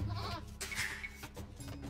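Sheep bleating in a video game, a short run of wavering bleats layered over busy game background sounds, fairly close and steady throughout.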